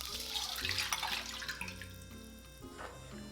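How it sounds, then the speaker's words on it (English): Honey sesame sauce is poured into a pan over medium heat, making a faint, continuous liquid splashing and trickling sound. "pour in the sauce"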